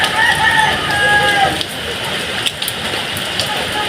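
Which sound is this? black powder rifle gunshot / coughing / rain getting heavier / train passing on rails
rain getting heavier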